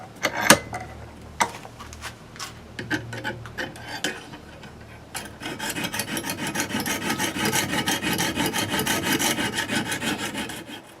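Kershaw AM 6 knife blade being sharpened on a coarse stone, with scattered scraping strokes and clicks at first, then a steadier run of continuous rasping strokes, close and moderately quiet, with no talking.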